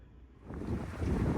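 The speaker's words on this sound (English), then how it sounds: "it's pretty windy out here too" Strong wind buffets outdoors in southern New England, rising into a loud, rumbling gust that blows across the microphone.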